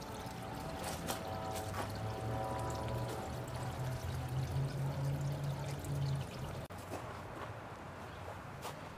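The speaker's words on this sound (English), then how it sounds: "Water is added to the tank to fill it about 1 inch from the top." Water poured into a hydroponic growing tank for watercress, a steady splashing gush with a rising hum as the tank fills toward the top, continuous and close with no talking.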